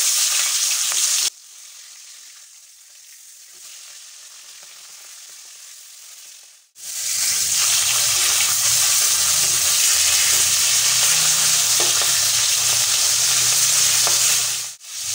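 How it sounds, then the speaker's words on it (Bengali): Fish heads dropped into hot oil in a wok set off a loud, steady sizzle and crackle that runs close and continuous after a short, quieter start. "গরম হয়ে গেছে, দিয়ে দিচ্ছি মাছের মাথা।"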